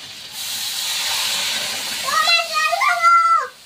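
A loud, steady steam hiss as water is poured into a sizzling pot of duck curry. The hiss swells, and a voice speaks near the end.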